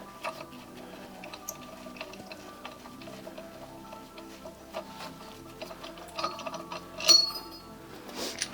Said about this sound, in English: it's just a matter of undoing this crank bolt now